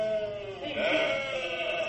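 Sheep bleat in a thick, wavering chorus of overlapping baas for a short stretch, filling the space with no talking over them.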